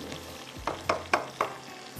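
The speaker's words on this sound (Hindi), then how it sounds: "अब हम इसको अच्छे से ब्राउन करेंगे, ठीक है। प्याज को अच्छा सा कलर देंगे" Onions frying and browning in a pan for oven chicken rice, a steady low sizzle broken by four sharp spatula scrapes at a slow, even rhythm, close and clear with no talking.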